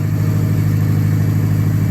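A Subaru car engine idles steadily after a hesitant start, its low, even rumble pulsing in a regular rhythm close by with no talking.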